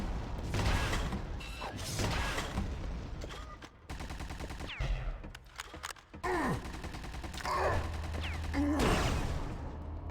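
Quake 2 Remaster combat with bursts of weapon fire, rocket blasts and clanking mechanical game effects in rapid, uneven clusters, close and fairly loud.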